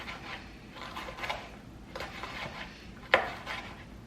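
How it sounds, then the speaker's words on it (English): Knife slicing a jalapeno into thin rounds on a board, a few soft, spaced cutting taps with one sharper knock, close and quiet with no talking. "I'm going to slice one of my jalapenos, and I'm just going to slice this into thin rounds"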